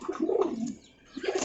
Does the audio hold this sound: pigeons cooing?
yes